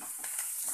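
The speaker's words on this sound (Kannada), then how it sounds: "ಹಾಕಿದ್ರೆ ಹಸಿ ವಾಸನೆ ಆಗೋ ತನಕ ಚೆನ್ನಾಗಿ ಫ್ರೈ ಮಾಡ್ಕೊಳ್ಳಿ." Onion and ginger garlic paste sizzle steadily in a pan, a soft continuous frying hiss with faint stirring scrapes, brief and fairly quiet.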